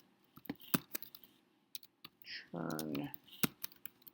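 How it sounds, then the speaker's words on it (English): Keys on a computer keyboard click in quick irregular taps, close and crisp, with a short stretch of someone speaking partway through. "I'm having trouble typing here."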